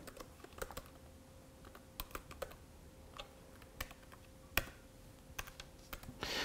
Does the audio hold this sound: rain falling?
no